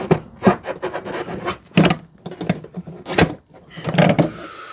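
An airbox being pulled out of a car engine bay, giving a string of irregular plastic scrapes, knocks and rubbing sounds, close and moderately loud, with short pauses between.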